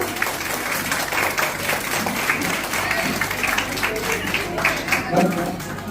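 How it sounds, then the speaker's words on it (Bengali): An audience at a formal stage ceremony applauds, dense and steady clapping filling the space throughout, with crowd murmur and some voices mixed in. "একটু জোরে করতালি হবে।"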